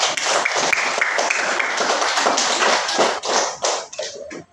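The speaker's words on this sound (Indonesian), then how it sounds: "Tepuk tangan dulu untuk kelompok satu." A classroom of students applauding group one, dense rapid clapping from many hands that sounds loud and close, then thins out into a few scattered claps at the end.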